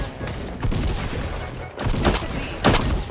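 Gunshots in the Roblox game Da Hood, a scattered burst of sharp cracks and thuds, several shots loud and close, mixed with game noise and light talk.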